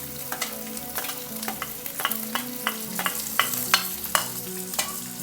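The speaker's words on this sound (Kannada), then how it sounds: "ಈರುಳ್ಳಿ ಹಾಕ್ತಾಯಿದ್ದೀನಿ." Chopped onion sizzles in a hot pan for uppittu while a spoon stirs it, with a steady fry hiss broken by repeated sharp scraping knocks against the pan, close by.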